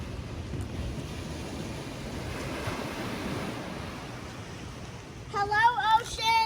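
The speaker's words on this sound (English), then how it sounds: "And then we said hello to the ocean." Ocean surf washes onto a Florida beach in a steady, broad roar with wind rushing across the microphone, close and continuous, and a voice briefly speaks near the end.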